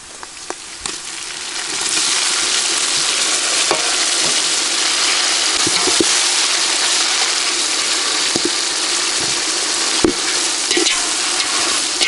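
Tomatoes frying and being stirred in a village-style pot for chicken biryani, giving a loud, continuous sizzle with scattered clacks from the stirring spoon.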